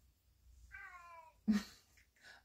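Domestic cat giving a drawn-out meow followed by a short sharp cry and a softer chirp, close by in a quiet room where weaving is underway.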